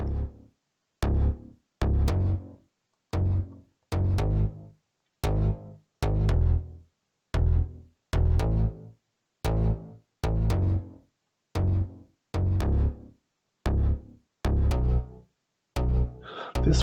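Black Eye synth bass preset in FL Studio, played as a repeating pattern of short, punchy low notes with clear gaps between them, loud and alone with no voice.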